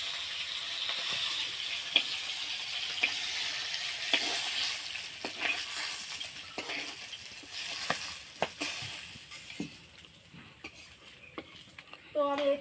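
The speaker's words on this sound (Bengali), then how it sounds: "মাছটা ভালোভাবে ভাজে নিচ্ছি আমি," Pangas fish frying in hot oil in a home kitchen, a steady bright sizzle with scattered sharp pops and crackles, fading a little toward the end before a final clatter of stirring.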